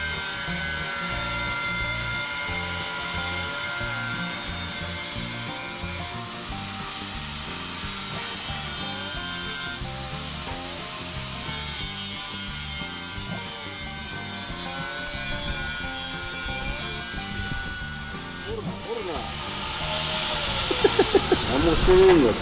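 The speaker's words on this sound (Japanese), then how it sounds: "溶接したところを磨きます。" A power tool grinds and polishes a welded joint on a drain hose fitting in a DIY repair, a continuous gritty whirring that runs the whole time with steady texture, close up, with people talking faintly underneath.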